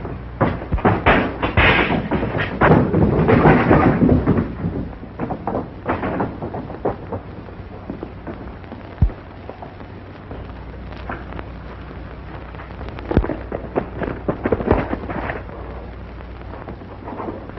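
A heavy boom from an explosion at a town express office in a 1940 western film, followed by rumbling and scattered thuds and bangs, loud and then fading under a low background hum.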